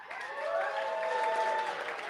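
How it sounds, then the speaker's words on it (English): Applause from an audience at a company party, a steady wash of clapping and crowd noise held evenly for a couple of seconds, fairly close and without talk over it. "By applause"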